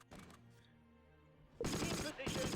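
Gunfire from a Panther tank in the Close Combat video game: a quiet stretch, then a sudden loud burst of dense, rattling shots that dips briefly and resumes.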